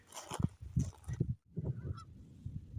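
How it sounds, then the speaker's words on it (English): Geese honk on a moorland stretch near shooting huts, a few calls heard at a distance beneath louder nearby rustling and footsteps. "There's geese galore on this stretch."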